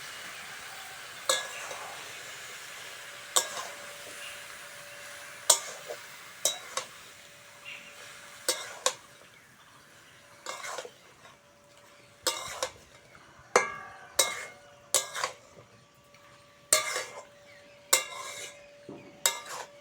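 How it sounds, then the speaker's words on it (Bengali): Boiled young jackfruit and potato being stirred into frying spices in a pan, with a steady low sizzle under repeated sharp scrapes and clinks of a spoon against the pan. "ওই মশলার মধ্যে দিয়ে দেবো সিদ্ধ করে রাখা এঁচড় আর আলুটা"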